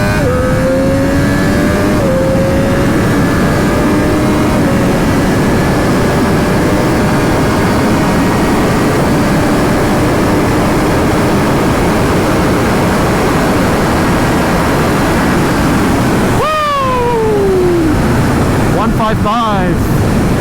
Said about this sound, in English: There we go, wide open throttle.